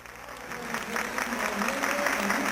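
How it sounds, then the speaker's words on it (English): Audience in a hall in Providence bursts into sustained applause, steady broadband clapping that swells slightly and holds, with a faint voice briefly audible beneath it. "all participants responded with great applause"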